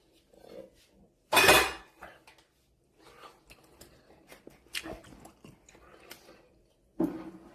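Dishes and cutlery clatter in a home kitchen after white sauce has been made for New York-style white pizza, with a loud burst early on and scattered lighter clinks that follow.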